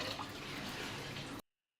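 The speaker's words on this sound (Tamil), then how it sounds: "தண்ணி நல்லா கொதிக்குது." Water boiling in a pot for barnyard millet pongal, a dense bubbling hiss that runs steadily and then cuts off abruptly into silence.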